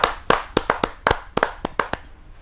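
Only a few people in an audience at a Hindi poetry gathering clap to welcome a poet, giving loud, close, distinct hand claps in an uneven rhythm that thins out toward the end.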